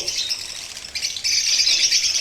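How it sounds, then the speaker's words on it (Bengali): Four cockatiels released into a partitioned room give a steady stream of shrill chirps and squawks, close and fairly loud, growing busier partway through with no talking. "এই চারটে ককাটেলকেই ছেড়ে দেওয়া হলো"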